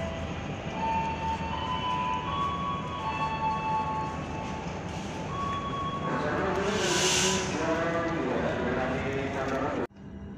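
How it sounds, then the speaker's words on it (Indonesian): A KA Mataram passenger train departs Kutoarjo station in Purworejo, its wheels clattering rhythmically on the rails inside a carriage, with a whining tone, a brief hiss and a clunk near the end, while people talk nearby. "KA Mataram kembali diberangkatkan dari Stasiun Kutoarjo, Kabupaten Purworejo jam 4 lebih 20 menit"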